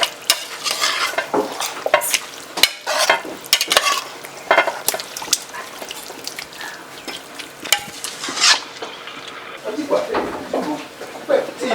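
Lamb biryani is stirred in a pot just after water goes in, a busy close run of scraping utensil strokes and knocks against the pot over a low sizzle, with someone talking in French throughout.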